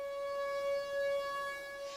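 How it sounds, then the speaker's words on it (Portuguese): Civil defense warning siren sounding to alert the population to a tornado in the southern United States, a steady sustained wail with gently rising and falling loudness, heard alone without speech. "é possível ouvir o som de uma sirene para alertar a população"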